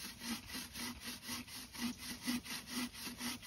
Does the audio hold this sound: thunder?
no